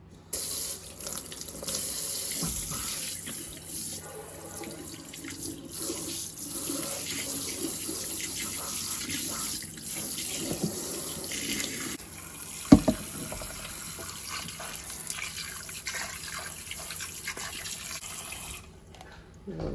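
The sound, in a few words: rinsing vegetables under running tap water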